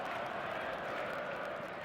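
Stadium crowd in an eFootball 2026 Mobile league match, a steady continuous roar of many voices at moderate distance, sustained evenly throughout with no distinct individual shouts.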